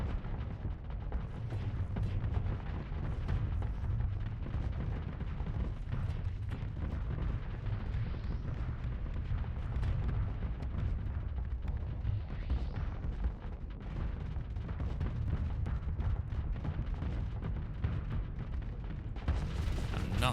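Ship guns firing in the space game Starsector, a dense, continuous barrage of booming shots and rumbling impacts that stays loud and busy for the whole stretch, with no talking.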